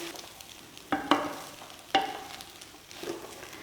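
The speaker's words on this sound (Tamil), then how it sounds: "ரைஸ் சேர்த்து நல்லா மிக்ஸ் பண்ணி விடுங்க." Basmati rice being stirred into a mixture in a frying pan over a low flame, with a few distinct scraping clatters of the spoon against the pan over a soft sizzle, no talking.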